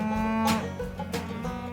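A tame, easygoing cow on a low-stress cattle farm gives one long, drawn-out moo close by, rising in strength partway through, with no other sounds around it.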